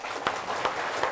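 An audience at a health question-and-answer event at a hospital in Kangding, Sichuan, gives a short burst of steady applause with a few sharper claps standing out.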